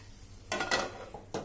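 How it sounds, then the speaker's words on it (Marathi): A metal lid is set onto a pan of cooking sabudana khichdi, giving a few quick clinks and clatters close by, followed by one more short clink. "चला आता झाकण ठेवते मी."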